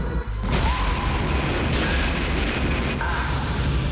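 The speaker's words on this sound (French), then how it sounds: "la fusée Saturne V décolle avec ses 3 astronautes pour l'espace" Saturn V rocket ignition and liftoff for the Apollo 13 launch, heard as a loud, continuous broadband roar that builds within the first half second and holds steady throughout.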